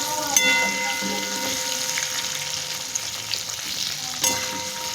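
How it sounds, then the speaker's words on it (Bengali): Potatoes frying in a pan make a steady, close crackling sizzle with a couple of sharper pops and faint clinks, and no one speaks over it. "আমি আলুটাকে একটু ভালোভাবেই ফ্রাই করে নেব"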